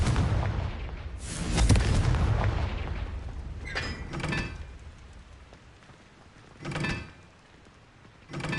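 The Confringo explosion spell in the Hogwarts Legacy video game sets off several heavy booming blasts at intervals, each with a rumbling, crackling tail that fades into a quieter background.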